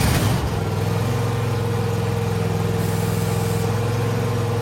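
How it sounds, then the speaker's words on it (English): A riding lawn mower tractor engine runs steadily nearby at a constant idle, a low droning hum with an even tone that barely changes throughout. "you may want to turn on the mower and get those lifted up"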